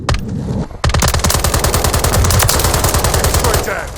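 Rapid automatic gunfire from Call of Duty Modern Warfare III multiplayer, loud and sustained bursts of shots after a brief lull, with gameplay effects layered throughout.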